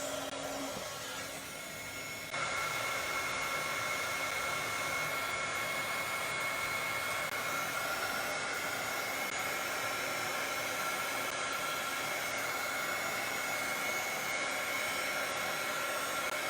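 A hair dryer blows steadily on a painted surfboard tag, a loud continuous whirring hiss that rises in strength after the first couple of seconds and holds evenly to the end.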